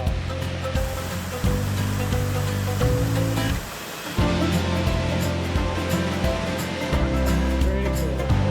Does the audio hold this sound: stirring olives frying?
no